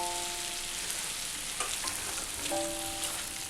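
Chicken curry sizzling steadily in a pan as tomato goes in, a constant bright frying hiss with a brief stir or scrape partway through, close and alone.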